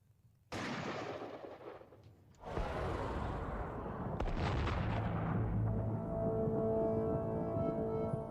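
A replica Gettysburg-era percussion musket fires, a sharp loud report ringing out, followed by a second heavy boom and a long rumbling echo that fades slowly.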